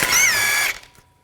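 A 17mm socket wrench ratchets off a castle nut on the outer tie rod of a 2004-2008 Nissan Maxima, a close, steady whirring clicking run lasting most of a second before stopping abruptly.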